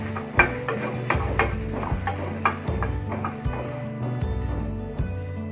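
Chilies, mustard and garlic fry in a pan, giving a continuous close sizzle with rhythmic spoon or spatula scrapes and taps about every half second.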